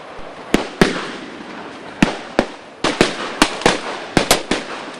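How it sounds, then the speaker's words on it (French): Gunfire exchange in an army officer training exercise, with about a dozen sharp, loud cracking shots spaced irregularly over a few seconds, each ringing out briefly against a quiet outdoor background. "Ces échanges de tirs sont un des exercices pratiques des stagiaires de l'École nationale des officiers de Tofo"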